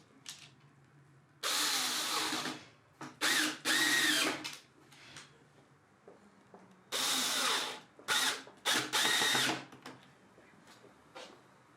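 Power drill driving screws into the parts of a baby cot being built for a camper van: several loud, close bursts of whirring, in two clustered groups with short pauses and quiet between them, no talking.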